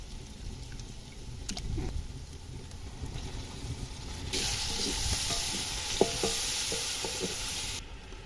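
Chicken pieces fry and sizzle in a pan with tomatoes for a desi-style chicken korma, a steady hissing bed with occasional stirring clinks and scrapes; the sizzle grows louder and brighter partway through, then drops back.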